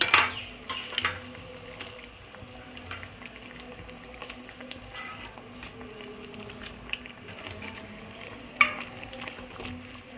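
Egg omelette curry bubbles and simmers in a pan while a utensil stirs and scrapes it, giving a soft continuous bubbling broken by a few sharp clinks.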